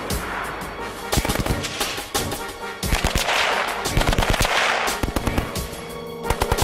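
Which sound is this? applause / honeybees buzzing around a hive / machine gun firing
machine gun firing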